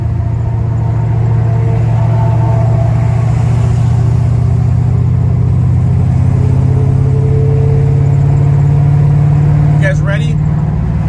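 A 1969 Chevrolet Camaro Pro Touring with a steady, loud, deep engine rumble that holds a constant low drone throughout, close to the car, without clear rev spikes.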